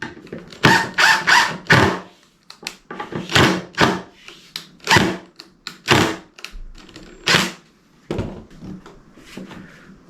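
Wooden Adirondack chair parts being clamped after gluing: a run of loud, close knocks, clacks and clunks from clamps and wood, arriving in irregular bursts with short pauses and no talking.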